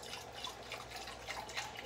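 Chicken broth poured into an emptied can of ranch style beans to rinse it, a soft steady liquid splash and trickle heard close up with no talking.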